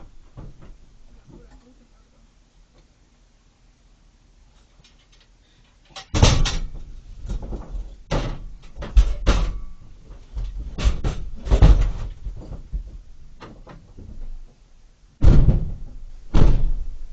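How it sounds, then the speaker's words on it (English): Door being closed during a work job, several loud thuds and knocks after a quiet stretch, close by, with people talking around them. "I'm gonna close this door."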